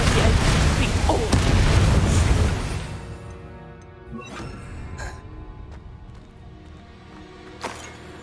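Confringo spell explosion in Hogwarts Legacy combat, a loud booming blast with crashing debris at the start that fades into rumbling, with a few sharp pops later amid game sounds.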